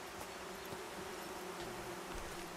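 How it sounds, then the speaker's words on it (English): Bees in the Among Trees wilderness video game give off a continuous, even buzzing hum at moderate volume, heard alone with no talk. "Those are bees."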